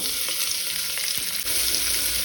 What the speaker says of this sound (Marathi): कांदो बरो तळसून घेवया।